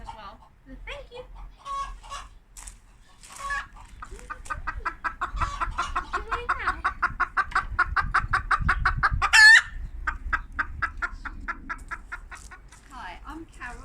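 Polish and Silkie chickens clucking steadily and close by, with a rooster crowing loudly near the middle, while a quiet voice talks underneath.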